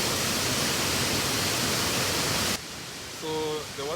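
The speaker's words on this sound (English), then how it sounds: "the waterfall is right there in front of me" Waterfall on the Thiba River in Kirinyaga roars as a steady, loud broadband rush for most of the stretch, then cuts to a quieter background where a voice begins to speak.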